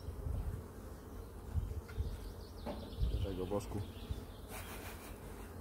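Honey bees buzzing steadily around an open hive with wild comb on the frames, a dense close drone that runs throughout, with a brief spoken word partway through.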